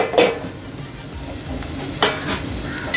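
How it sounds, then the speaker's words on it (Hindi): Onions, chopped green chillies and curry leaves fry in oil with a steady, close sizzle, a few sharp spoon-stirring scrapes breaking through over the hiss. "इन सारी चीज़ों को अच्छे से फ्राई करूँगी तेल में"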